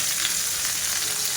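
Bitter gourd (karela) bhaji frying in a pan, a steady close hiss and sizzle with light scraping from stirring.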